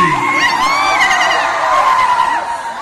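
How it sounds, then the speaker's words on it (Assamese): High, wavering ululation from a crowd of women at a Sonali Jayanti (golden jubilee) festival in Assam, several voices trilling together loudly and continuously, with bleating-like warbles rising and falling near the microphone. "এই হাত চাপৰি নহয় উৰুলি"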